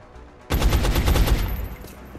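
A burst of rapid gunfire in the video game X-Com Enemy Unknown erupts after a brief lull, several close, loud shots in quick succession that ring out and fade.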